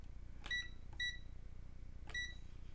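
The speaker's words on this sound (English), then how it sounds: "that's the buzzer sound" A multimeter's continuity buzzer gives three short, clear electronic beeps with brief gaps, the first two close together and the third after a longer pause, over a quiet low hum.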